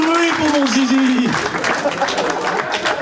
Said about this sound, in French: tu peux applaudir le spectacle